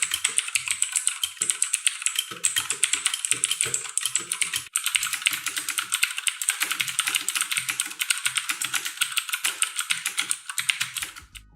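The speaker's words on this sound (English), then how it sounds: "The Blue switch has a tactile bump and an audible click with each press." Rapid, clicky typing on an Aukey KM-G7 mechanical keyboard with blue switches, sharp, bright key clicks in a fast, steady stream, close up and without voices.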